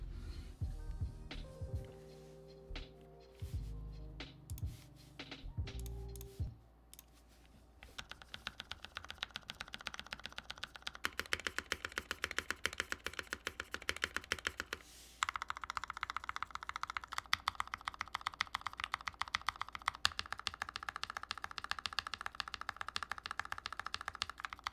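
Rapid typing on an NK65EE mechanical keyboard with lubed switches: a quiet, dense stream of soft clacks that starts after a brief fumble of handling noises and then keeps up an uneven fast rhythm.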